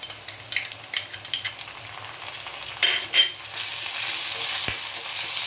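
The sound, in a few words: onion and ginger-garlic paste sautéing in a pan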